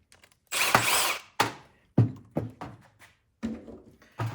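Small 7mm bolts are loosened from a Craftsman M230 lawn mower in short bursts of tool whirring and sharp metallic clicks, several quick close spurts separated by brief silences.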